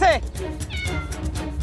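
A cat meows in a Hindi TV drama street scene, with one clear, loud, wavering meow at the start and further meow-like cries under steady background noise and voices.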